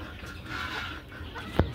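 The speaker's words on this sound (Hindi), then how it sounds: "ये दिखाता हूँ मैं आप लोगों को हमारे पास जो चकोर रखे हुए हैं वो, और ये देखिए ये चकोर हैं" Chukar partridges call on a poultry farm, a brief low clucking fowl call with a sharp close peck or knock near the end, over a steady barnyard background.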